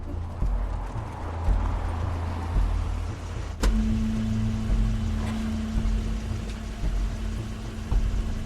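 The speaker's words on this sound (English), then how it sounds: "That's Crane's car." In The Wolf Among Us, Crane's car pulls up with a low rumbling engine under a steady background bed, a sharp clunk midway, then a sustained idling hum and faint mechanical clatter.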